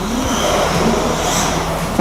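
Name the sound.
radio-controlled LP-86 drift car accelerating on track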